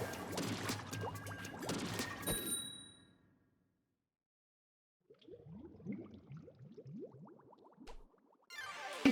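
Liquid sloshes and splashes from the Sloshing Neo bucket weapon in Splatoon 3, in quick bursts with a pause of near silence partway through, all fairly quiet and heard alone.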